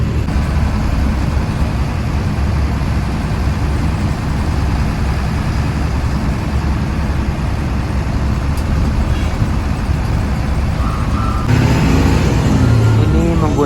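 27 Trans bus on a Hino AK chassis with a front-mounted Hino engine, driving from Malang toward Surabaya. A steady engine rumble and road noise carry on without a break, with a voice heard faintly at times.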